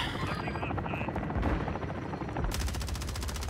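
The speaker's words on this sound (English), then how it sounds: "Should we start beaming the chopper or what?" A helicopter in the video game Warzone drones steadily throughout, its rotor thrum mixed with bursts of gunfire and loud game action, with players talking over it.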